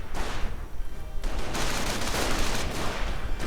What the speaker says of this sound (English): another rifleman squad from Arcsaber coming under heavy fire